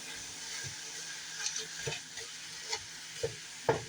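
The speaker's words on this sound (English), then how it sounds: "I want to brown up the meat in the sesame oil." Ground meat browning in sesame oil in a pan, a steady quiet sizzle with occasional stirring knocks and scrapes, close and unaccompanied by talk.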